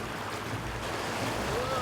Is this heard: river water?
yes